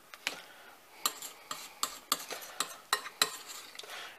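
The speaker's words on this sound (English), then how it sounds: "all we do is we just mix this up" Spiced butter being mixed in a bowl, with a series of sharp scraping and clinking strokes from a utensil against the bowl at an irregular rhythm, close and fairly quiet, without speech.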